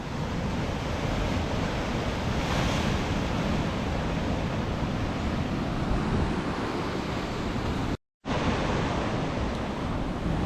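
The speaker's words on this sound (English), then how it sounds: "Underneath this rock I'm standing on, there's actually like a sea cave, and the water goes right in below it and comes flaying out" Sea waves surging into a sea cave beneath a rock on the Scottish coast, a steady heavy roar of surf and spray mixed with wind buffeting the microphone, loud and continuous with one brief dropout.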